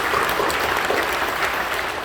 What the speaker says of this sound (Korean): 박수로 격려해 주시고